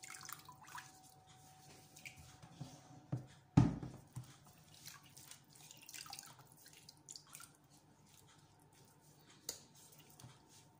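Running water and drips from rinsing 2 kg of washed sardines in lemon water for stuffed sardines, a steady faint trickle with a couple of louder splashes, no talking.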